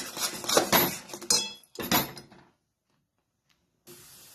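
Sweet mixture being stirred in a pan, a mithai in the making, giving scraping, clinking strokes in bursts for about two and a half seconds, then near silence with one faint tap and a brief rustle at the end.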